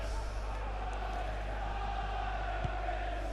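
A stadium crowd murmurs in FIFA 20 during a Bournemouth versus Sheffield United FA Cup third-round match at the Vitality Stadium, a steady distant wash of noise under a low electronic hum.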